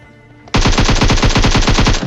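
Automatic gunfire in the shooter game PUBG Mobile starts suddenly after a brief lull and rips on as a rapid, even, very loud burst of shots that runs to the end, with no talking.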